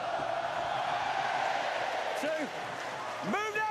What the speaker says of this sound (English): Crowd are getting fired up here.